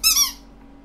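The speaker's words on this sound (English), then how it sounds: "It's a squeaky toy." A small squeaky toy gives one quick, bright squeak, a double-pulsed squeeze lasting a fraction of a second, close and clear, then silence.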